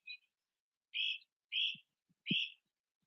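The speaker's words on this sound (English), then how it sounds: "Hear my birds talking to me." Pet birds make short whistled chirps, four clipped calls spaced about half a second apart, quiet and close, with a few soft clicks between them.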